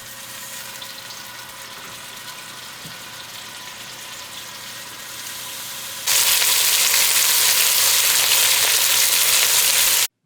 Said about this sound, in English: I'm braising some boneless short ribs here, and make sure you space them out as you're searing them so that they have room to brown.